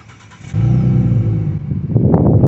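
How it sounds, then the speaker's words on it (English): A Mini Cooper engine cranks and catches, then settles into a loud, steady idle close by, with a small rise in revs near the end. "here is a clip of what the car sounds like starting up"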